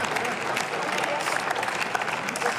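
Applause in the German Bundestag during a budget debate, steady dense clapping from a crowd of members, moderately loud and continuous with a murmur of voices underneath.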